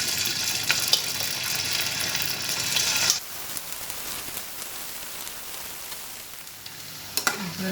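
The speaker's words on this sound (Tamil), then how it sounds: "இப்போது வறுத்துக்கலாம்." Battered cauliflower (gobi) pieces sizzle loudly in hot oil for Gobi Manchurian, a dense crackling hiss that drops sharply partway through to a softer, steady bubbling with occasional spits.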